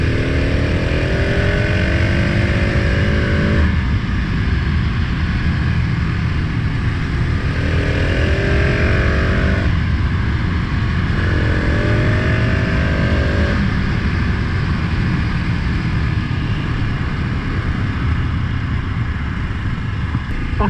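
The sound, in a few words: KTM 690 SMC R 2020 motorcycle riding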